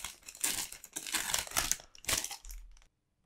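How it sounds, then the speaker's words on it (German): A plastic Topps Match Attax multipack wrapper crinkles and crumples loudly close up in several bursts as it is torn open, then falls quiet. "wollen wir mal unser erstes Multipack öffnen, das übrigens wieder aus Plastik ist"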